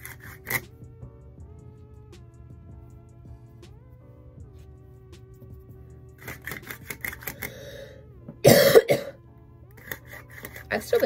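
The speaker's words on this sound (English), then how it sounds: "I've still been coughing from that" Short coughs come in bursts near the start and middle, with a louder fit of coughing near the end, all over a quiet hum.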